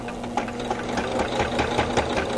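A sewing machine runs a straight stitch with a walking foot through quilt layers, producing a quick, even mechanical chatter of needle strokes, close and steady, with no talking.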